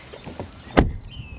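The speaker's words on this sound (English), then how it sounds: "the V90 door closing sound" A Volvo V90 car door shuts with one solid, muffled thump after a few soft handling clicks, heard close up with no talk.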